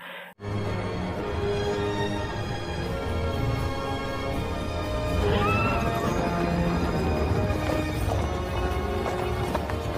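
Mounted horse troops approach with neighs and whinnies rising over a continuous rumble of galloping hooves, busy and fairly loud throughout after a brief quiet opening.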